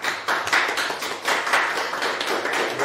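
Studio participants clapping on a live talk broadcast, a small group's steady, fairly loud applause with rhythmic bursts of hands, no talking over it.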